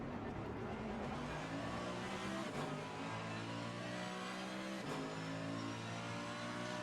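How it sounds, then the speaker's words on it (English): A McLaren GT3 race car at Paul Ricard streaks past with a steady, loud engine roar, the sustained revving broken by two brief whooshes as it goes by. "And I see a McLaren flash past"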